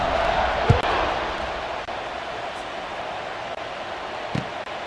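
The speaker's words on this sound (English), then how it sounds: "this crowd is feeling themselves after that last drive" Stadium crowd in College Football 26 roaring steadily in a broad, continuous wash, with a few faint thumps and a commentator's voice underneath.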